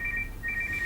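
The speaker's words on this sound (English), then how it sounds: "Whose phone is that? That's the second time it's gone off." A mobile phone ringtone goes off during a football chat show, a bright repeating electronic beeping pattern in short bursts over a low room hum, with no talking.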